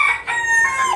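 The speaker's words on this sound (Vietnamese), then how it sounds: "con gà, con gà trưởng thành nè, gà này cũng 6-7 tháng rồi." A Tân Châu bantam rooster, about six to seven months old, crows once nearby, loud and clear, with a tonal call that shifts pitch partway through.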